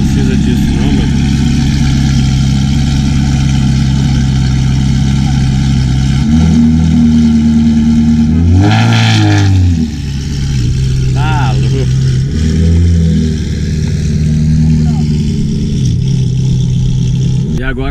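A McLaren race car on a track passes close by with a rising and falling engine roar and brief revving, set against a steady low engine drone, while people talk throughout.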